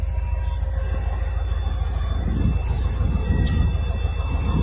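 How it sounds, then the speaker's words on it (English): A CSX coal train rolls past close by on the rails near Lynchburg, Virginia, with steady loud rumble and high metallic wheel squeals rising over it. "We caught that coal train there"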